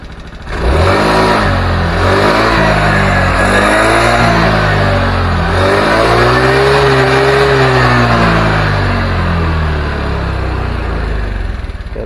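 A Honda Vario 110 scooter engine, recently troubled by stuttering at mid-to-high throttle, revs up loud and close, climbing and falling through several smooth throttle sweeps over a steady running drone.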